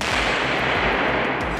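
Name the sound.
gunshot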